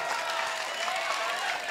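Steady applause from a seated audience at a Hindi kavi sammelan poetry recital, a dense even clatter of many hands filling the hall at moderate level for the whole stretch.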